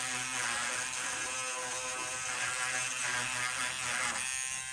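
A small electric buffer whirs steadily as it goes back and forth over an acrylic nail tip on a practice hand, a close, constant motorized buzz with faint rhythmic shifts and no talking.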